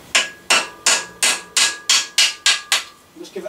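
Hammer tapping a flathead screwdriver set in a notch of a mountain bike lock ring: nine sharp metallic strikes at a steady, brisk rhythm, close and loud, followed by faint rattling.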